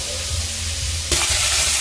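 Sardines going into a hot pan of sizzling eggplant, a steady close frying hiss that suddenly swells louder and brighter as the fish hits the oil, with no voices.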